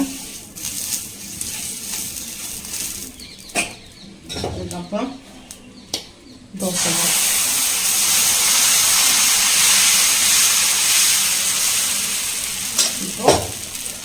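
Dosa batter frying on a hot oiled tawa, a bright steady sizzle that rises sharply midway and holds, preceded by scraping and clinks of utensils, with a voice talking intermittently.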